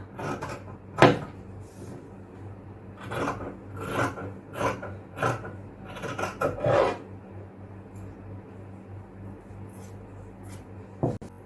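Fabric strip being cut with scissors for tailoring: close, dry rasping snips in irregular bursts, separated by short quiet gaps, with one sharper knock near the start.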